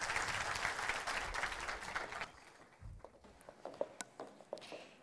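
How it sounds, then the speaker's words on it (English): Loud, dense applause from a Demo Day audience fills the opening seconds, then thins out into scattered claps and fades. "A big round of applause."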